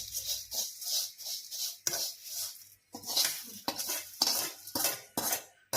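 Poha chivda being stirred in a pan, with a spoon or spatula scraping and clinking against the metal in repeated close strokes and brief pauses, alone with no talk.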